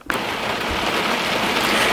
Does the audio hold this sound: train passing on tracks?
no